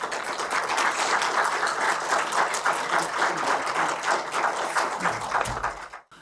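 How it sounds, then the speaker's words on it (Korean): Lecture-hall audience at an education policy forum claps to welcome a professor to the podium, steady rhythmic applause that fades and stops near the end. "큰 박수로 이렇게 환영해 주시기 바랍니다."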